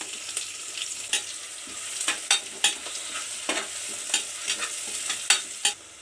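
Chopped onions frying in a pan, a steady sizzle punctuated by sharp irregular clacks and scrapes from a spoon stirring against the metal, close and moderately loud.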